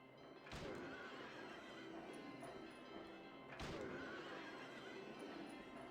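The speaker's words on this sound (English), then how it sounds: "So we sit and wait for the horses to activate." Horses in the video game Silent Hill 3 neigh loudly twice, several seconds apart, over a dense, noisy game soundscape with no talking.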